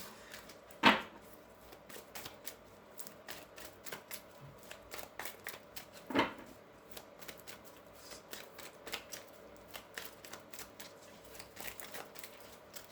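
A deck of tarot cards is shuffled by hand, with two sharp riffle-like bursts standing out against a steady run of soft, repeated card flutters and taps, close by and fairly quiet.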